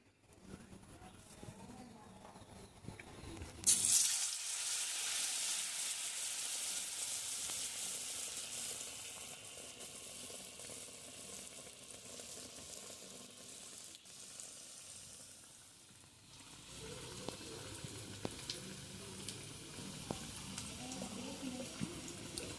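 A slice of bread dipped in gram flour batter drops into hot oil with a sudden loud, bright sizzle that holds steady for several seconds before easing into a softer frying crackle with a few light clicks.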